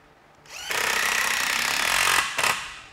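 A power drill drives screws into kitchen cabinet panels, its motor whirring up and holding a steady, loud, close buzz for about two seconds, then a brief second burst, with no talk.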